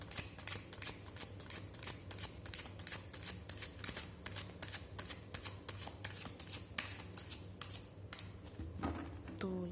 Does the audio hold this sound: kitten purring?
no